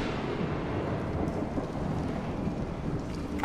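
Thunder from the Bendy and the Dark Revival video game rolls in a dense, continuous rumble with a rain-like wash, steady and fairly loud throughout, with no voices.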